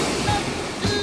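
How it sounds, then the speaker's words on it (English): Ocean surf breaking along a rocky coastline at Gouritzmond, a brief continuous wash of rushing water with two slight swells, moderately loud, no voices. "Oh, the sound of the waves."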